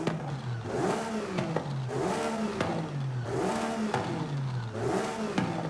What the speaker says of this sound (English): I really want to have a look and see what the exhaust sounds like afterwards